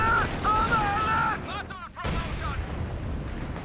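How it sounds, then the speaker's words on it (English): A Panther tank returns fire in a Company of Heroes 2 2v2 match: a dense wash of distant artillery and gunfire with a sharp blast near the middle, mixed with game sound effects and no clear talk. "Here comes the Panther getting some return fire in."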